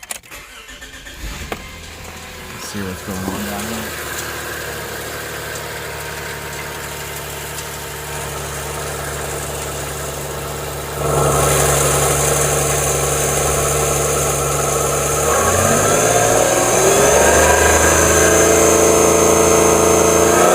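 A 2006 Subaru Tribeca 3.0L with a misfire cranks and starts, then settles into a steady idle that rises in level partway through and shifts pitch near the end, heard close up with a brief spoken remark.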